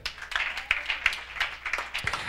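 Brief, scattered clapping from a church youth convention crowd, with irregular hand claps at moderate volume and no voices standing out.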